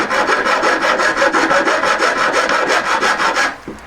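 A hand file rasps across the claws of a small metal gate-style collet in steady, rapid back-and-forth strokes, close and loud, about sixteen strokes before stopping.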